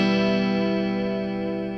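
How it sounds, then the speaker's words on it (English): Electric guitar played through a Warped Vinyl mkII analog chorus pedal: one sustained chord rings out loud and alone with a lush, wavering shimmer, slowly fading over about two seconds. "I like this chorus a lot."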